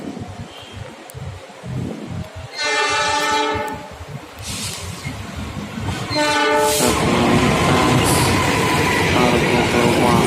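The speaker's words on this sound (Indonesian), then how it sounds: "ada kereta yang akan melintas lagi guys, lokomotif CC 206." A CC 206 locomotive sounds two long, loud blasts of its horn as the train approaches and passes close by, followed by a heavy, steady rumble and clatter of wheels on the rails.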